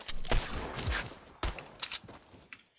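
Gunfire in a Fortnite Battle Royale duo-versus-squads match: several sharp shots and short bursts crack out over about three seconds, fairly faint and mixed with softer in-game clatter.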